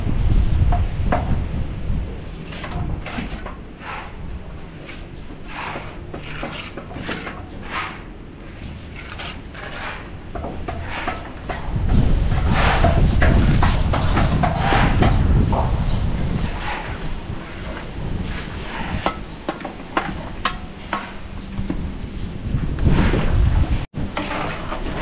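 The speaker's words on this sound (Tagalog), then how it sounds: "Lakas ng hangin." Strong wind buffets the microphone outdoors at a house construction site, a steady broadband roar that surges louder midway and keeps gusting throughout, with occasional clicks and handling knocks.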